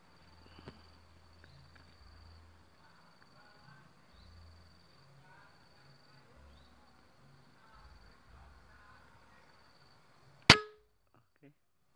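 Pellets from a Mouser OD 28 air rifle strike a target once with a sharp, loud metallic clang near the end, after a stretch of quiet outdoor ambience with faint birds.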